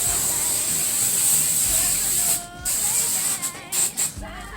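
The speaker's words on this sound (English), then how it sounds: "And then I just take some hairspray. This is Aquanet. And spritz them." Aqua Net hairspray is spritzed onto hair in a long continuous hiss that breaks into a few short bursts near the end, close and fairly loud, with no one talking.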